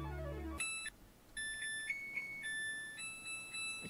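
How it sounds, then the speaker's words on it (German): Samsung WF8 washing machine plays its electronic end-of-cycle melody: a short series of clear, pure beeping tones in a stepped tune, fairly faint, following a brief low sound at the start. "das ist eine deutsche Samsung Waschmaschine WF8"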